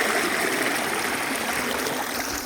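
Irrigation water from a neighbouring well, pumped by motors, gushes and splashes continuously into an onion field, a loud, close, steady rush with no talking.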